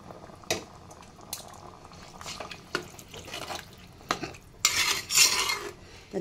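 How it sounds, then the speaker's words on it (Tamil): Dry rice, about one and a half glasses, is tipped into a clay pot while cooking chicken biryani, giving a loud gritty rush of pouring grains near the end, after scattered soft clinks and stirring sounds. "ஒன்றரை கிளாஸ் அரிசி வச்சுருக்கத இதை வந்து இதில் கொட்டிடுறேன்."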